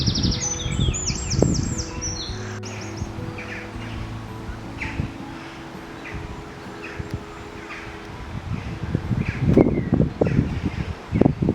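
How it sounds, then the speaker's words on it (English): A small bird singing outdoors in nature: a few bright chirps and tweets come and go at moderate distance over rustling and wind noise, with handling sounds nearby. "Lovely little bird, yeah."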